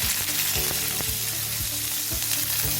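Onions hit hot oil for peanut chutney, producing a steady close sizzle with a few sharp stirring knocks spaced through it.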